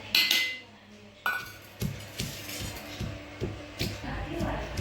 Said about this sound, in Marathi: त्यानंतर लसूण आणि मिरची कुटून घेतल्यानंतर भेंडीच्या बिया देखील कुटून घ्यायचे।